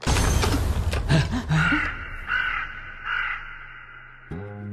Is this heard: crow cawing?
yes